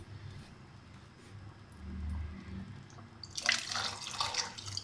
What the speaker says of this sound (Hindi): इसमें मैं पानी डाल दूँ थोड़ा सा,